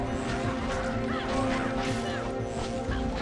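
Seagull-like bird calls in the video game Wavetale, a dense chorus of squawking cries over a steady game ambience, fairly loud and continuous with no talking.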